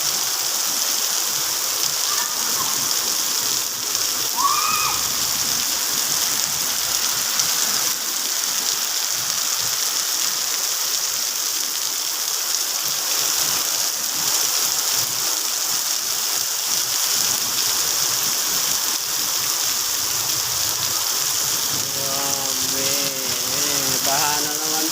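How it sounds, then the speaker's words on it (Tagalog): Heavy rain pours down steadily in a dense, unbroken roar of hiss and spatter that stays loud and even throughout, with a few faint chirps near the end and no voices. "Ang lakas ng ulan."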